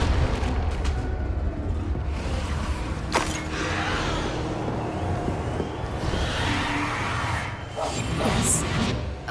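Confringo fire spells in Hogwarts Legacy go off amid combat, loud booming explosions and crackling bursts rolling over one another, with sharp impacts breaking through a dense, rumbling game soundtrack.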